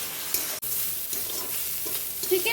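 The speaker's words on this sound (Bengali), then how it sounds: "চিকেনও ভালোভাবে ভেজে নেওয়া হবে।" Small chicken pieces fry in a wok while being stirred for mixed fried rice, a close, loud, constant sizzle broken by a sharp scrape of the spatula, with no voices.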